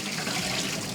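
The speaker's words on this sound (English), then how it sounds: "you just want to soak them in some cold water just to get some of the starch off of the potato" Cut potatoes soak in cold water and are stirred by hand, giving a steady, close sloshing and splashing that fills the whole moment.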